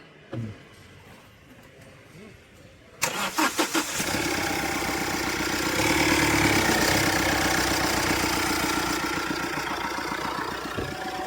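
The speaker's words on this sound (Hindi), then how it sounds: "अब देखते हैं, गाड़ी को स्टार्ट करो।" A diesel Mahindra Marazzo or Tata Nexon with fault codes P0253 and P0255 and a no-start problem cranks briefly, then catches and settles into a steady, close, slightly knocking idle after a quiet opening.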